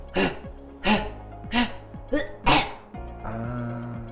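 A voice imitates a dog's hacking cough, five harsh, breathy bursts in a row, followed by a softer trailing sound over a low background tone.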